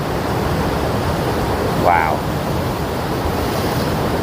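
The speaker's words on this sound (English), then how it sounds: "But look at this now. Look at those waves." Ocean waves break on the shore at Fanore, County Clare, a broad, steady roar of surf blended with wind buffeting the microphone, and a person briefly exclaims midway.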